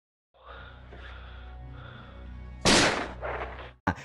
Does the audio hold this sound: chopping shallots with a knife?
no